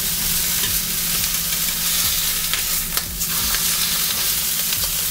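Pork tenderloin fries in hot oil in a pan with a loud, continuous, close sizzle and crackle, broken by a few sharper pops.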